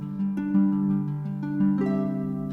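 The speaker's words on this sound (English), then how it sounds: "The harp part on that particular bar" Plucked harp notes in a short phrase, ringing together and ending on a fuller chord that sustains to the close.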